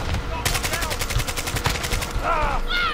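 Rapid automatic gunfire in Call of Duty Modern Warfare 2 multiplayer, a fast burst of evenly spaced shots lasting about two seconds, loud and close, followed by brief game chatter.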